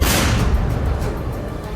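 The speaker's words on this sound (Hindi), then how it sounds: "दूसरी सुरंग के ऊपर और अंदर बिछाया और एक जोरदार धमाका करके उड़ा दिया।" A deep, forceful explosion as the Israeli army detonates Hamas ammunition laid over and inside a tunnel in Gaza, a loud broadband boom that rumbles on steadily without fading across the short moment.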